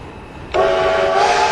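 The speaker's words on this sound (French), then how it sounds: "Il y avait un autre klaxon de train, je rêve pas." A train horn in the Roblox railway game Terminal Railways blares in suddenly midway and holds as a steady, loud multi-tone chord to the end, with no talk over it.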